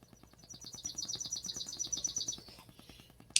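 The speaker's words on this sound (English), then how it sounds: "So the chipping sparrow is out and about and super chatty." A chipping sparrow perched on a fence sings a rapid, dry trill of evenly spaced chips lasting about two seconds, moderately near and fairly faint, with soft background noise and a sharp click at the end.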